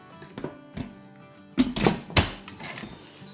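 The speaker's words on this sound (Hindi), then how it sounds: "और अब इसको कवर करते हैं" The lid of an Instant Pot electric pressure cooker is fitted and closed over a pot of nihari paya: a few soft taps and clicks, then a louder scrape and a sharp clunk as it locks.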